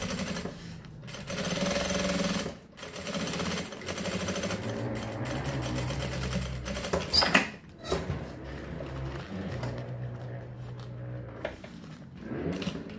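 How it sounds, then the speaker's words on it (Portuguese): A sewing machine runs in steady bursts while stitching a seam to join two parts of a fabric pouch, whirring close by with brief pauses and a few small clicks. "Vou passar uma costura aqui, prendendo essas duas partes."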